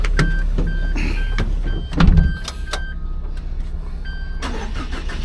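A minivan's engine cranks and catches, with a brief surge of starter noise followed by a steady idle, close and fairly loud, accompanied by faint beeping chimes.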